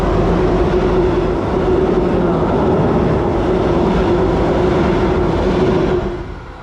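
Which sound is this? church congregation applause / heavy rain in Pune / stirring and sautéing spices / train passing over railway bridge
train passing over railway bridge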